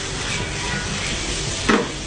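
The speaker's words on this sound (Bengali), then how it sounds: "এখন আমি স্ম্যাশ করা রসুনগুলো দিয়ে দিচ্ছি, নেড়ে দিচ্ছি।" Smashed garlic hits hot oil with browned onions in a pan, giving a steady close sizzle with a brief scraping stir near the end.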